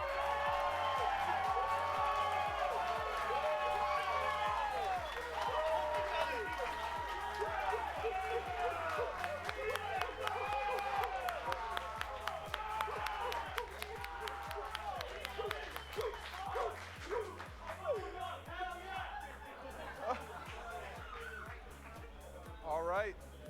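A crowd at a League of Legends esports championship final cheers and applauds for the hometown team, a sustained wash of clapping and whoops that slowly thins out, with an announcer talking over it and steady low music beneath.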